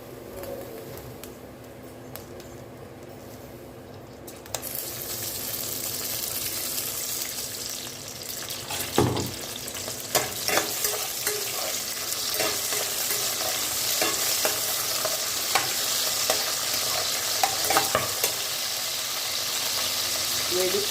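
Oil sizzles steadily in a pan as brinjal fries for a spicy Andhra-style pachadi. The hiss is constant and close, broken by occasional clinks and scrapes of stirring, with no talking.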